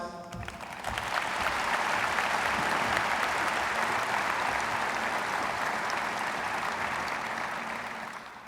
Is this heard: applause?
yes